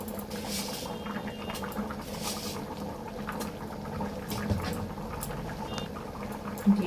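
Khichuri simmering and boiling in a pot, a steady low bubbling and gentle spattering that continues evenly throughout.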